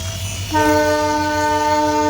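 A train horn sounds loudly and holds steady as a train on a trial run rumbles across the new Pamban railway bridge, the blast starting partway in and continuing to the end.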